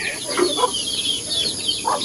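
Several native chickens cluck and chirp nearby in short, scattered calls over a constant high insect-like hum.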